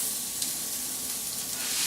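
Food sears in a hot pan of oil with a steady, dense sizzle that runs close and even throughout, with no voices over it.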